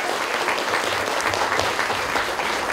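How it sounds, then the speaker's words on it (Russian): A school crowd at an eleventh-grade last-bell ceremony breaks into dense, continuous applause, loud and even from start to finish with no pauses. "Ура! Аплодисменты!"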